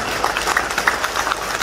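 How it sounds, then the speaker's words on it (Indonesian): An audience at an FKPPI event in a Bali hotel claps together in a brief, steady patter of applause. "Saya mohon tepuk tangan yang meriah."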